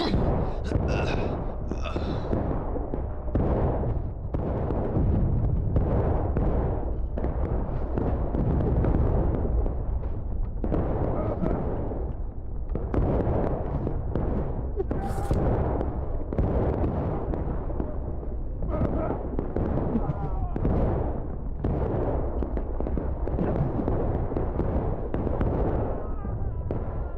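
Sustained gunfire and booming artillery from a multiplayer PC war game, a continuous loud barrage of overlapping shots and blasts with no letup throughout.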